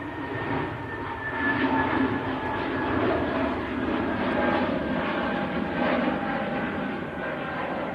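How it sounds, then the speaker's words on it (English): An Airbus A320neo airliner at Manchester Airport gives a steady, moderately loud jet roar that swells gently and holds throughout, with no voices. "Another A320 Neo."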